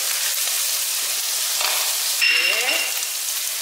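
Washed dried shrimp frying in a pan for squid fried rice, a loud continuous close sizzle with a brief rise in crackle partway through and a faint metallic ring from the pan; no talking.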